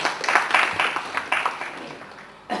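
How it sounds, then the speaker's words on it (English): Scattered clapping from a seminar audience for a presenter, a loose patter of hands that thins out and fades before a brief fresh burst at the end. "So big clap for him for his wonderful work."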